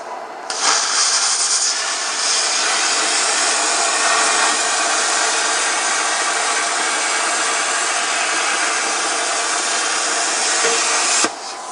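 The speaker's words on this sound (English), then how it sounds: "Nice sharp arc, that's going to pierce through this 1/2 inch like nothing." A Hypertherm Cutmaster 60i plasma cutter pierces 1/2 inch steel with a loud, steady hissing roar that holds for about eleven seconds, then cuts off abruptly.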